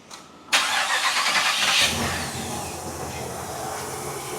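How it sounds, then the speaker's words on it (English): A 5.3 LS V8 engine cranks briefly and catches, settling into a steady close-up idle with a rough mechanical rumble; no talk over it. "I think we're ready to hit the key, fire this thing up"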